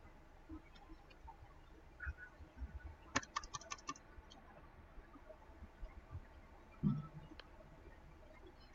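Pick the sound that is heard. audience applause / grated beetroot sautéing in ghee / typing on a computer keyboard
typing on a computer keyboard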